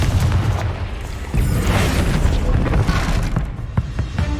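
Confringo explosive spell blasts going off in the Hogwarts Legacy video game, a dense run of booming, crackling bursts with a sharper surge partway through, loud and close over busy background.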